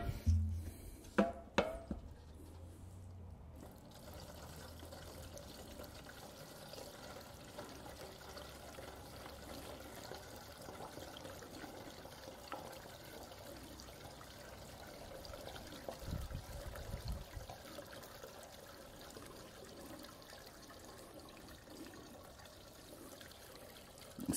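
Methanol being poured carefully into a container on a scale, a faint, steady trickle and dribble of liquid running on after a few brief clunks at the start, with no talk.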